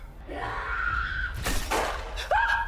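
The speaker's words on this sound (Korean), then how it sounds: "고통으로 울부짖는 비명과 함께 궁안을 가득 채우는 썩은 냄새" Drama sound effect of agonised screams of pain: wailing vocal cries rise and fall in a palace setting, broken by a harsh crashing burst midway, then a new shriek near the end.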